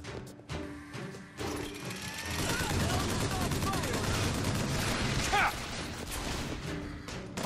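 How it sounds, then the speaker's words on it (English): Gunfire aimed at a pillar in Bioshock Infinite, a dense, sustained burst of rapid shots and clattering impacts over game noise, with a voice talking throughout. "I'm shooting up some sort of pillar thing"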